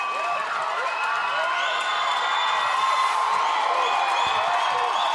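Excited crowd at a U20 women's USA versus Canada game, cheering and whooping loudly and continuously, with high shrill voices rising over a dense roar.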